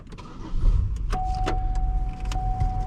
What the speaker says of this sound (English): Let's fire up this car.